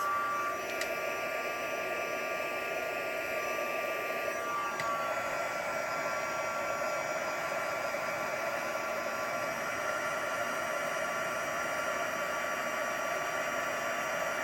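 Steady blowing roar of an embossing heat tool running close by, a constant airy whoosh with a thin tonal whine that shifts slightly partway through.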